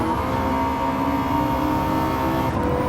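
A rear-wheel-drive V8 muscle car with turbocharging and over 1,400 horsepower accelerates hard on nitrous in a Gran Turismo 7 drag race, a steady, loud, high-pitched engine roar that holds evenly throughout.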